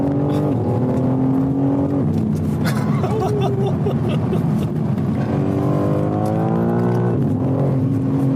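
A car accelerating hard in sport mode with stability control off, its engine note climbing loud and close through several gear shifts, each pitch sweep rising then dropping at the change.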